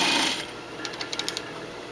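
Sewing machine stitching a waistband: a brief burst of rapid needle clatter fading into a few soft, evenly spaced ticks, close and fairly quiet with no talk.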